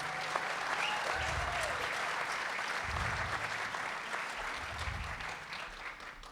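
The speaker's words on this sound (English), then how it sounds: "give them a round of applause." Sustained audience applause fills a panel discussion session on RVing to Alaska, a dense wash of many hands clapping steadily for several seconds with faint crowd murmur underneath.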